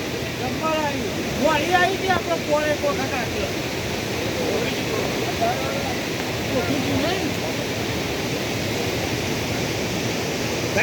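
A river waterfall pours in a continuous broad rush outdoors, with people talking over it for much of the time.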